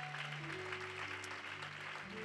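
A church congregation applauding in praise, a steady wash of clapping with sustained organ or keyboard tones held underneath.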